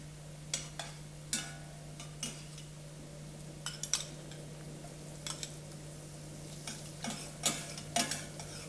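Shallots browning in a pan give a faint, quiet sizzle under a steady low hum, with scattered light clicks and scrapes of a utensil stirring against the pan.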